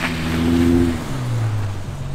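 A car engine revving hard while stuck in snow, a loud sustained drone that shifts pitch downward as the throttle changes, heard up close with no talking.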